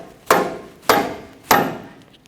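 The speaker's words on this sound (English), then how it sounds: "Take another rubber mallet and I'm just going to give it some taps" Three evenly spaced sharp knocks from a rubber mallet tapping a dust shield into the steering knuckle of a 2007-2017 Jeep Patriot 2.4L, each strike close and ringing briefly before fading.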